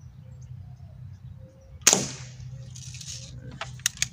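A Crosman M4177 pump air rifle fires a single sharp crack at close range, followed by a brief ringing tail and a few faint metallic ticks against a low steady hum.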